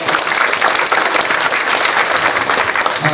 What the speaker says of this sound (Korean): 큰 박수 해주시겠습니다